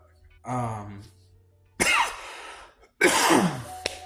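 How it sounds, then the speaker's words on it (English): A voice clears its throat, then coughs twice in harsh, close bursts, with short quiet pauses between them. "Excuse the cough."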